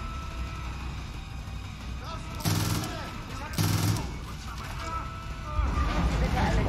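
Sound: gunfire in Far Cry 5 video game

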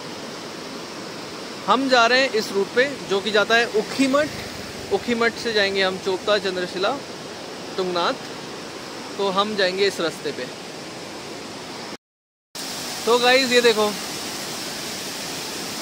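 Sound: rushing river noise

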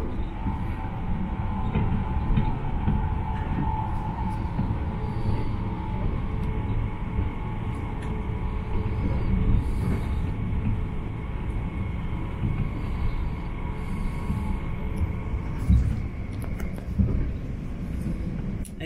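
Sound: inside a train travelling to Gatwick airport

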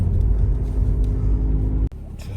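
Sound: SEAT Leon 1.6 TDI car driving on the road

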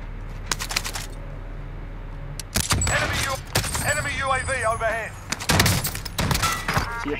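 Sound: shotgun firing slug rounds in Call of Duty Warzone video game

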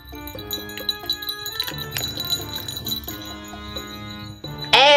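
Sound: small bell jingling on a shaken item

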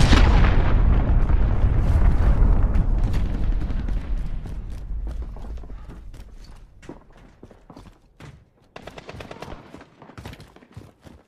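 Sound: cruise missile strike explosions in Call of Duty Modern Warfare, video game

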